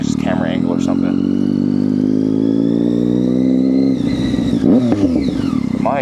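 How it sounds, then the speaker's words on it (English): A motorcycle with a loud aftermarket exhaust, bought from a former stunt rider, revs hard and close, the engine rising in pitch and holding before dropping away into rough, clattering idle blips. "My exhaust is pretty nuts."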